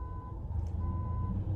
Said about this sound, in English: I don't know if you heard that car alarm was going off.